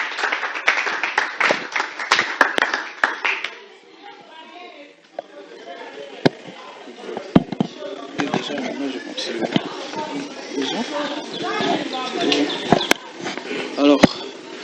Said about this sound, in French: On applaudit pour lui, s'il vous plaît.